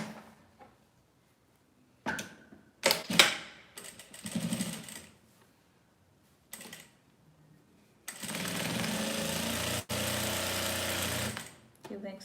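A sewing machine stitches elastic onto a fabric face mask in a long steady run of about four seconds, after scattered handling clatter and short bursts. Talk is heard in the quieter stretches.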